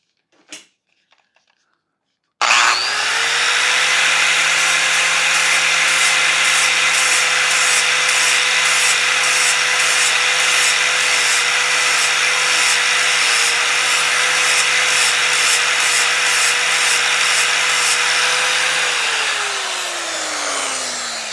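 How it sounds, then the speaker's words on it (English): A small angle grinder spins up sharply and grinds down the tip of a stuck bolt in a loud, steady whine with rasping metal contact, holding for nearly twenty seconds before winding down, after a few faint clicks at the start. "all I did was grind the tip down, the tip of the bolt"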